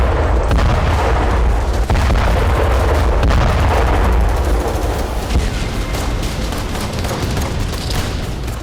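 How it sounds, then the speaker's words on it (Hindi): Explosion and heavy blasts in Gaza war news footage, loud, dense and continuous booming with rumbling low-end bursts throughout, no voices. "गाजा युद्ध में क्षणिक विराम एक धमाके के साथ टूट गया"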